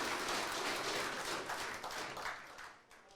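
A crowd applauds warmly for a few seconds, the clapping dense at first and then gradually thinning and tapering off.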